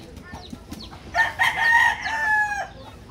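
Chickens and a rooster on a small farm raising four-month-old gamefowl cluck nearby, then a rooster lets out a loud, drawn-out crow lasting about a second and a half, with low background noise throughout.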